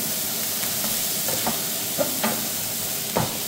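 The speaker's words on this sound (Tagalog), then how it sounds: "halu-haluin lang natin to hanggang sa mag-crispy" Roast beef is stirred in a hot frying pan until crispy, with a steady sizzle and hiss throughout and a few soft utensil scrapes and clinks at irregular moments.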